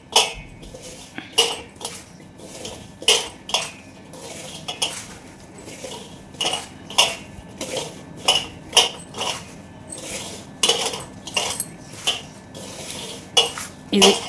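A spoon repeatedly scrapes and clinks against a bowl while avakaya mango pickle is mixed with oil, in a steady rhythm of metallic knocks and stirring over about fourteen seconds, heard close with no talk.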